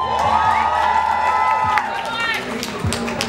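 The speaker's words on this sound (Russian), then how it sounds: "Дайте аплодисментов!" A crowd claps and cheers at a one-on-one hip-hop dance battle semifinal, loud and close, with shouts and whoops over a steady clapping wash while a host's voice and background music carry through.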